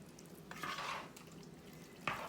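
A spoon stirs ranch seasoning into a pot of taco soup, giving faint, soft scraping and sloshing strokes with a light clink near the end.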